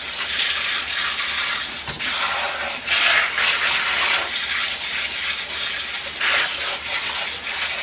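Microgreens being rinsed under running water, a steady broadband splashing hiss that swells and eases as the tray is moved, with no talking.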